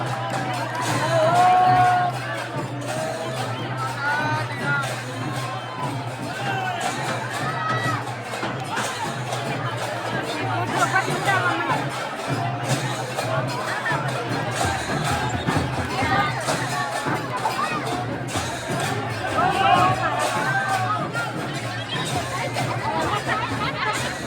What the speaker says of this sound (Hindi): बेशुमार भीड़ है